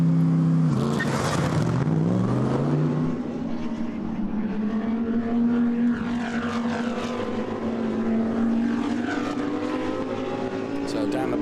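A Lamborghini Huracan GT3 race car accelerates out of the pit lane onto the circuit at Oschersleben, its engine note rising and sweeping through gear changes, loud and continuous over about eleven seconds.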